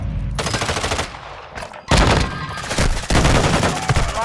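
Automatic gunfire from Call of Duty rattles in loud, dense bursts with brief pauses between them, close and punchy, and game sounds lie underneath.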